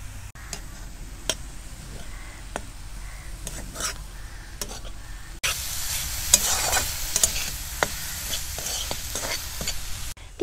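Chopped banana flower fries in a pan with salt and turmeric, a soft sizzle under repeated sharp clicks of a spoon stirring against the pan, growing louder and hissier halfway through.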